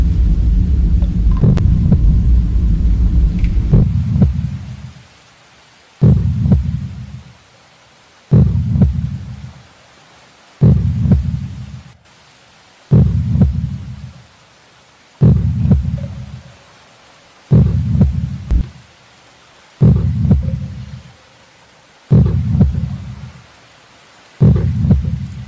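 In the horror game The Mimic, a deep, loud heartbeat throbs about ten times in a slow, steady rhythm, each heavy low pulse separated by a short silence, with no voices.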